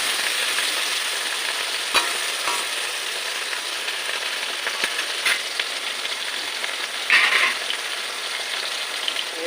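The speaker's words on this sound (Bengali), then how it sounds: "ঝিঙেটা ভাজা ভাজা হয়ে এসছে প্রায়" Ridge gourd fries in a little oil in a pan with a loud, steady sizzle throughout, broken by a few sharp clicks and scrapes of stirring.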